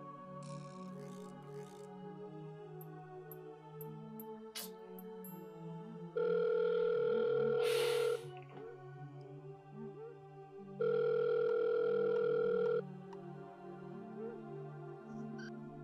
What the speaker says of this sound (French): Il ne décroche pas.